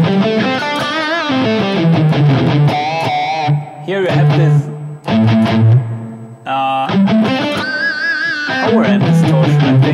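Electric guitar played through a green OD overdrive setting on a multi-effects modeler, giving loud, crunchy distorted chords and melodic lines with brief pauses, while a voice speaks briefly over the playing.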